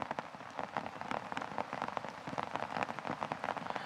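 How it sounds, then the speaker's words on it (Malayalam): Heavy monsoon rain pours down across Kannur, Kerala, a dense, loud, unbroken patter of drops on surfaces close by, with no voices. "കണ്ണൂരിൽ വ്യാപകമായി അതിശക്തമായ മഴ തുടരുകയാണ്."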